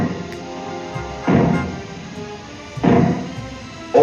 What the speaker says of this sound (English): you will hear 3 bangs in short succession. They will be sounded by means of maroons like this